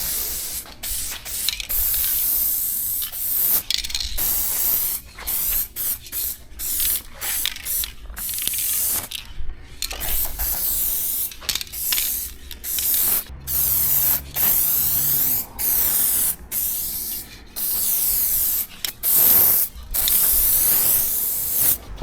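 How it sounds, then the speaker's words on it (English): Upol Grip #4 adhesion promoter hisses from an aerosol can onto a used car bumper cover, in many short bursts and longer sprays with brief pauses between them, loud and close. "This upol grip number 4 is an adhesion promoter."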